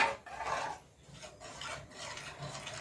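A spoon stirs a Malvani-style cowpea leaf (chavli) curry in a kadhai, scraping and rasping in steady, close strokes with short pauses between them.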